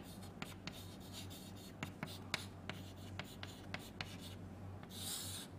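Pen or marker writing a state table by hand for a sequential circuit with four states, heard as a steady run of short, close scratchy strokes and taps over a low hum, with a soft rustle near the end.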